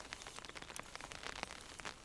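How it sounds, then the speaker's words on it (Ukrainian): Faint, steady patter of rain falling on a surface, with soft scattered drops and no voices. "Та такий дощик пішов непоганий"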